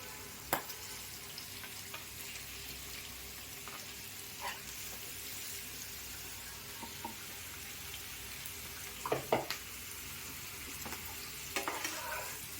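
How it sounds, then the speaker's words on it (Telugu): Marinated fish pieces frying in oil for a Nellore fish curry produce a low, even sizzle with a few faint clinks and scrapes of a utensil, quiet and with no voices. "ఇప్పుడు మనము చేప ముక్కలు వేసుకుంటాం"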